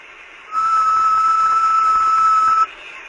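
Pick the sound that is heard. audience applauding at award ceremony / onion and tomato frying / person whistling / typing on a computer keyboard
person whistling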